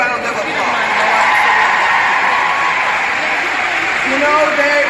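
Crowd at a women's convention claps and cheers loudly and continuously, a dense wash of applause with voices mixed in under it.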